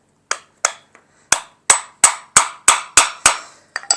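A Phillips head screwdriver poking holes through a recycled plastic container gives about ten sharp, close percussive taps in an irregular but fairly even rhythm, each one short and crisp, with no talk.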